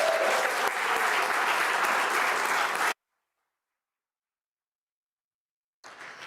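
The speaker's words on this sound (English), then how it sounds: "Give them a round of applause." Audience applause at a county manager's excellence award ceremony, a steady dense clapping for about three seconds, then silence before it resumes briefly near the end.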